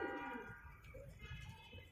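A pet pigeon with dark eyes and a crooked build coos softly in its coop, faint low throaty calls repeating over a quiet background.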